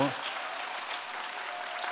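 Steady applause from a church congregation fills the space, a dense even patter of many hands clapping at moderate distance.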